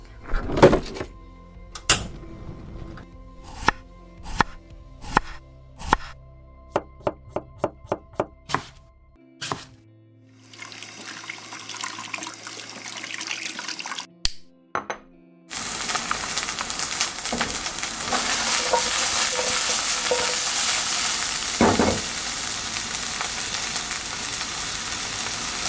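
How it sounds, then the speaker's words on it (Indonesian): In a home kitchen, rice porridge is being made: a run of sharp knocks and chopping taps, a brief rustle, then a loud steady sizzle in a pan with stirring scrapes, close and without talk. "aku harus ke dapur terus masak bikinin dia bubur"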